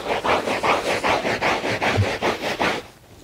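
A microfiber cloth rubs back and forth over a car floor mat, mopping up carpet shampoo in about ten steady, close scrubbing strokes before stopping.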